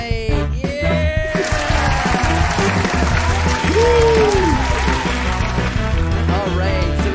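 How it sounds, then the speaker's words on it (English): A livestream audience applauds an improvised stand-up comedy cast, a continuous layer of clapping mixed with music tones and occasional cheering sounds throughout. "give a huge round of applause for your sweat list improvised stand-up comedian cast tonight"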